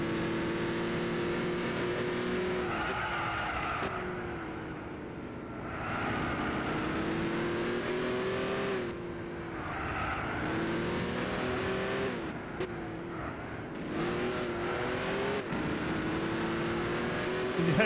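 Loud race car engine in Gran Turismo 6 repeatedly climbing in pitch through the gears, with short drops in roar at each shift, steady and close with no voices.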